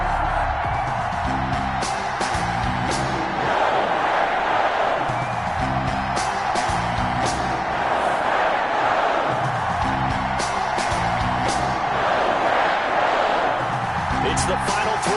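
An NFL stadium crowd before a Carolina Panthers vs Green Bay Packers game roars steadily, with rhythmic thumping music and whoops across the stands, loud and continuous throughout.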